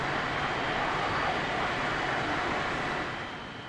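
An Airbus A321 on its takeoff roll in X-Plane 12, a steady, loud broadband jet-engine roar with no talk over it, easing off slightly near the end.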